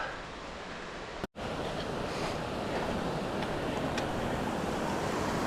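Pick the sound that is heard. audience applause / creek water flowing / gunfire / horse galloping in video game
creek water flowing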